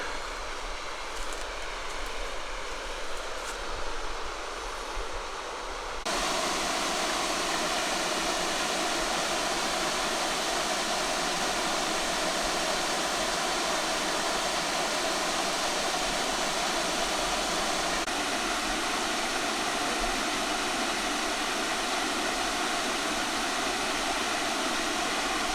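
Continuous rushing water roars steadily, a loud broad hiss of a waterfall that grows fuller after the first few seconds and holds without pause.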